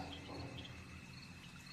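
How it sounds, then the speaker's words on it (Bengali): Crickets chirp in a forest at dusk, a faint, thin steady trill against a quiet low background hum, with no voices. "ঝিঝি পোকার ডাক, পাতার ঘষাঘষি সব চলতেই থাকে।"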